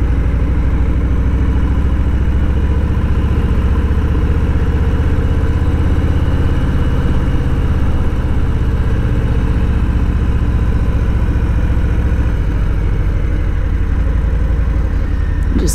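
Harley-Davidson Low Rider motorcycle climbing uphill at low speed on a mountain highway, its engine a steady, loud low rumble throughout, with constant wind noise and no talking.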